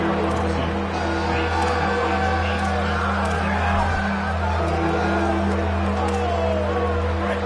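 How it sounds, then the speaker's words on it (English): Football stadium crowd during a college game between USF and Tulane, a dense continuous roar with whoops rising on a big third down, heard under an announcer's voice. "The crowd elevating its energy, willing this defense to get a stop on this big third down"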